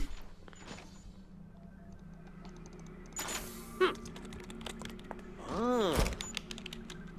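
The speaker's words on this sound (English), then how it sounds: "he's too busy typing away on his computer" A Sim in The Sims 4 types at a computer keyboard, giving quick, light key clicks in irregular bursts, with other game sounds and a brief swooping tone joining partway through.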